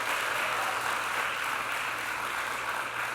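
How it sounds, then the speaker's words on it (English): Steady, sustained applause from an audience honoring Commissioner Bray at Governor Hochul's recovery funds announcement for Orange County, even and unbroken throughout with no voices over it. "So let's give a round of applause to Commissioner Bray as well."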